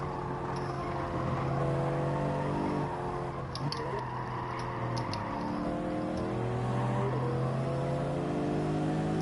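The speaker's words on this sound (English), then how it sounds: "You can see them revving the nuts out of it." A car engine in Gran Turismo 7 revs hard and steadily, its high droning tone climbing and holding loud and close with no pauses, a few faint clicks over the top.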